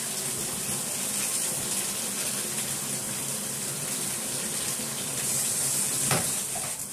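Cool water runs steadily from a tap as a deep-cleanse treatment is rinsed out of dreadlocks, a constant close hiss and gush with faint splashing and no talk.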